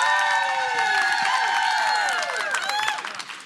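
A packed audience at a TEDx-style talk applauds and cheers to welcome a speaker to the stage: loud, dense clapping with whoops and rising whistle-like cheers throughout, tapering slightly at the end.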